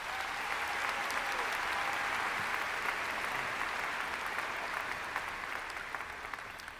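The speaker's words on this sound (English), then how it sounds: "Please join me in giving a round of applause for our staff." Graduation audience at James Island Charter High School applauds the staff with a long, steady round of clapping, fairly distant and even, tapering slightly near the end.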